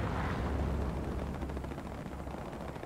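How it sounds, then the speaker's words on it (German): A truck explodes in a video game, a deep rumbling blast with crackling debris that slowly settles, loud and close. "Der Truck ist hier explodiert."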